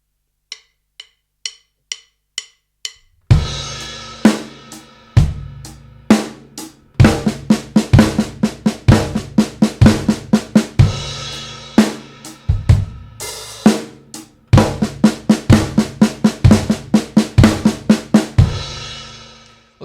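A drum kit plays a steady flam paradiddle groove of quick snare strokes and accented hits, with bass drum thumps and cymbals, after a few soft clicks count it in.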